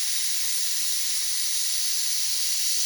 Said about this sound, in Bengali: আমি কুকারে বসিয়ে দিয়েছি ছ থেকে সাতটা সিটি আসলে আমি বন্ধ করে দেবো